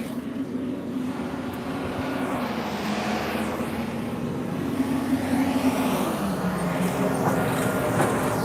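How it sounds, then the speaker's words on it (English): A loud truck engine drones close by, a steady low rumbling roar that holds for several seconds and grows slightly louder toward the end, with no speech over it. "this damn truck's so loud"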